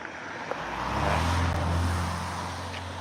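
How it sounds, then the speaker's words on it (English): Cars pass along a roadside, traffic noise swelling to a broad rush in the middle and easing off again, with one steady low engine hum running throughout and no talking. "Some cars."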